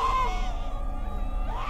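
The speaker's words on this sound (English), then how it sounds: "Those are some good acting screams." Acted screams in the horror video game Visage, a sustained, wavering cry with rising and falling pitch over a low rumbling background, loud and continuous.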